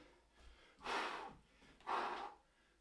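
Heavy breathing during a virtual boot camp workout: two strong, close breaths about a second apart, each a loud rushing exhale, with quiet pauses between them.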